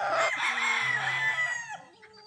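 A White Kelso rooster gives a loud, drawn-out crow close by that trails off toward the end, with some faint background noise.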